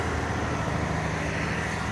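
A truck engine idling at a basement construction site while concrete walls are poured, a steady loud low rumble with no breaks or talk.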